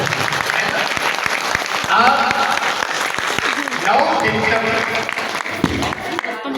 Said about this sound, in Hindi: तो मैं चाहूंगा एक बार इतनी जोर से ताली बजाइए कि आपकी ताली की आवाज अयोध्या जाए